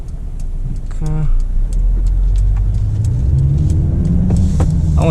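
A Mercedes-Benz GLB driving in sport mode with manual shifting at night, a steady interior engine drone that rises as it accelerates, with faint ticking and a person talking.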